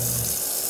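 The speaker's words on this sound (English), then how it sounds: "I'm still showing you that my clothes are still rinsing" Water churns and sloshes steadily inside a portable washing machine as it rinses clothes. It is a brief, continuous hiss at close range.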